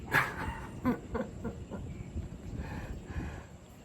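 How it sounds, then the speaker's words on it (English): A dog in the Philippines barks several times in the background, a few short, fairly distant yelps in the first seconds over a steady, noisy outdoor backdrop. "that damn dog barks in the background"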